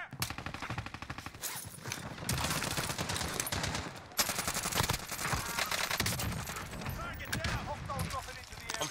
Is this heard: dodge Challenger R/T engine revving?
no